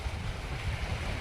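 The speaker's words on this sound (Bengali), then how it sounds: "বিশাল সমুদ্রের কিনারে" Sea waves washing onto a broad white sand beach on Havelock Island, a steady close roar of surf mixed with wind rush against the microphone, no voices.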